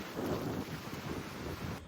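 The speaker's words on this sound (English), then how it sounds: "It's a little bit windy today." Wind gusts outside an auto repair shop buffet the microphone, a low rumbling roar that swells and eases over a couple of seconds, fairly faint and without talk.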